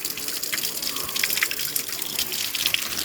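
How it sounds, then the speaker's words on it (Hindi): Water running and trickling over large rocks along a slippery mountain trekking path, a steady close rushing splash with faint drips, no voices. "यहाँ से पानी भी बह रहा है"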